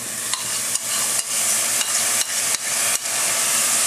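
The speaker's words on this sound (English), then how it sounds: "in a saucepan, what you're going to do is over medium-high heat, heat up your beans," Beans and ham hiss steadily in a hot saucepan over medium-high heat, a loud continuous sizzle interrupted every half second or so by brief stirring scrapes.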